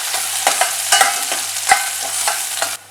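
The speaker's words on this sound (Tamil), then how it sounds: "இதை கொஞ்ச நேரம் நல்லா வதக்கிக்கலாம்" Fenugreek, curry leaves, chopped shallots and garlic sauté in a pan for a South Indian okra tamarind curry, with a steady close sizzle under repeated scraping stirs of a spoon, and no voices.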